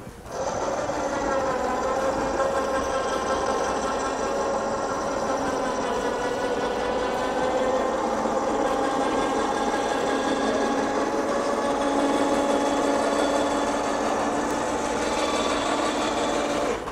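An electric motor raises a fully automatic roof tent, giving a steady, loud, close whirring hum with a slightly wavering pitch that runs throughout without talk.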